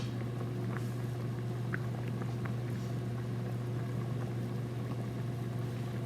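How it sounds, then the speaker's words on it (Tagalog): A pot of beef kare-kare stew in peanut sauce bubbling steadily with faint pops and gurgles over a constant low hum from a stove or fan, no talking. "Yan, kumukulo na po."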